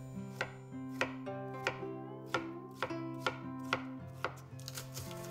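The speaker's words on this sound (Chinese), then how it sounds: "土豆去皮，同样方法切丁。" A knife dices peeled potatoes on a cutting board, giving steady, evenly spaced sharp chops about twice a second, close and clear with no talking.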